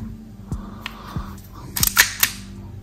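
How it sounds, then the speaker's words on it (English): A Novritsch SSP5 gas airsoft pistol being cocked and handled up close: a few sharp mechanical clicks and slide snaps spaced across a couple of seconds, with a brief cluster of metallic clacks near the end, and no talking. "There is a bit of gas in that, so we'll cock it."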